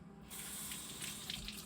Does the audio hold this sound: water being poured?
yes